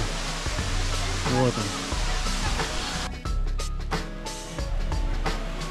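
The Gebeus waterfalls near Arkhipo-Osipovka, a steady, loud rush of falling and flowing water. Someone speaks briefly over it.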